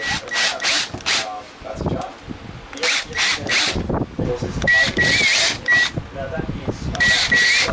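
Power drill boring holes in a damaged Type M front bar for a Nissan Skyline R33 GTST during fiberglass repair, several short whirring bursts close by with someone talking between them.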